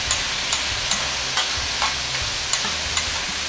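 Cheesesteak meat and ingredients are stirred and chopped on a hot griddle, a steady sizzle punctuated by regular spatula scrapes and taps roughly every half second.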